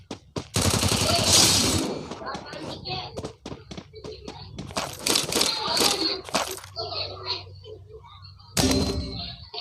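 Gunfire in a shooting video game: sharp bursts of automatic fire and single shots, loud and close, broken by short pauses and thuds, with someone talking between and over them.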